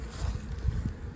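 Honeybees on hive frames make a brief, low, steady droning buzz up close, with a soft hum pulsing faintly over about a second.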